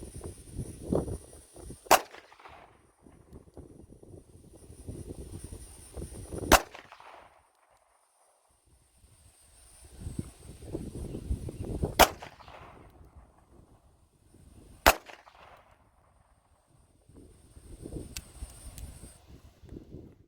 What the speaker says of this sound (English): Shooting single action, aiming low.